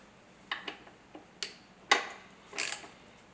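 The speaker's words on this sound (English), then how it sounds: "The torque wrench is preset to the torque value needed, so it will give a loud pop when that value is reached." A preset torque wrench gives four sharp clicks at uneven intervals while screws are tightened during assembly of a Digit robot, fairly close and otherwise quiet.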